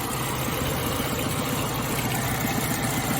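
A Suzuki Samurai engine idles after a carburetor rebuild, a steady, dense rumble with a shaky, vibrating low pulse, close and continuous with no voices over it.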